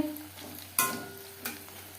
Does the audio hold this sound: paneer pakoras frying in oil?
yes